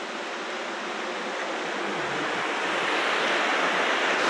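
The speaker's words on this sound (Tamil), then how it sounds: "உங்களுக்கு இந்த அருவி சத்தம் இப்போ கேட்கணும்னு நினைக்கிறேன்." Rushing waterfall stream in the Javadhu hills, a steady broadband roar of falling water that swells slightly louder toward the end, continuous and close with no voices.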